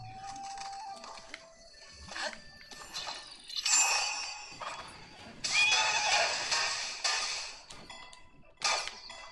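A horse in Zelda: Breath of the Wild neighs and whinnies in several loud bursts over clip-clopping hooves, with bright game chimes and bird calls scattered between them.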